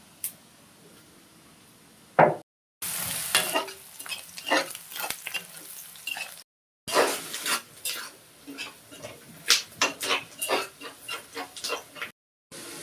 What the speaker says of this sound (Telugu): ఇప్పుడు వెల్లుల్లిపాయలు దంచుకొని వేసుకోవాలి